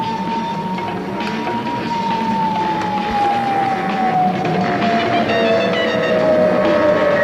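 Police sirens wail in a film chase after a stolen ambulance, a single loud siren tone sliding slowly downward over a dense rumble of traffic and engine noise.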